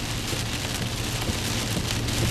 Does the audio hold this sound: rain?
yes